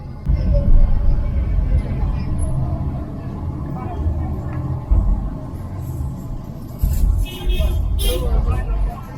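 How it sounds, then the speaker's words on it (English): Street traffic in a Jamaican town, a steady close rumble of engines and passing vehicles with bursts of louder noise, muffled chatter and a brief higher clatter near the end. "Traffic in the town will definitely hold you up."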